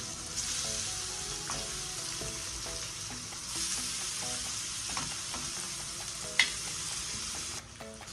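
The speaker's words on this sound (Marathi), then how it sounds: "पनीर आपण आता बटर मधून चांगलं तळून घेतलं दोन्ही साईडने" Paneer pieces frying in butter in a pan and being turned over, giving a continuous bright sizzle with scraping and clinking as they are flipped, and one sharper knock near the end.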